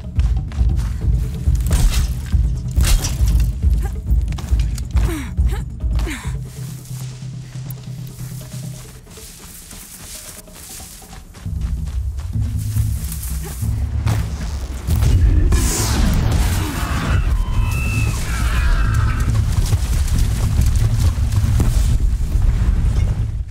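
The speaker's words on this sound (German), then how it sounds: "Da ist einer explodiert." Deep booming blasts and heavy thuds roll through the Horizon Zero Dawn soundscape, with a loud tripwire explosion rumbling out midway before the low din returns.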